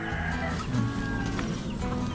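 Fighting chickens squawk and cluck agitatedly in short bursts, fairly near, over a steady low background hum.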